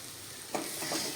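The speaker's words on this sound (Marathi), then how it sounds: "हलक्या हाताने असे पोहे परतायचे" Kanda poha with onions stirred in a pan over a medium flame, a brief soft sizzle with a couple of scraping stirs in the second half of a short, quiet moment.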